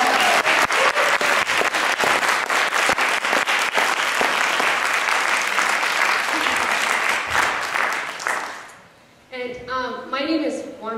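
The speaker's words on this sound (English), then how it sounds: "I want to applaud." Loud, dense applause from an audience at an evening literary reading, steady for about eight seconds before dying away, then a person begins speaking.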